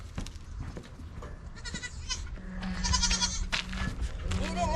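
A dairy goat doe bleats several times in a wavering, nasal cry, close by, with other livestock shuffling and a person speaking briefly in the background.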